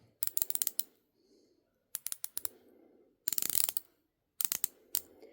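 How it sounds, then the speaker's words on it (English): Bezel on a Nixon 51-30 Chrono watch turned in four short bursts, each a quick run of crisp, close ratcheting clicks, separated by brief quiet pauses with faint handling sounds. "this outer ring dial, it does turn the bezel."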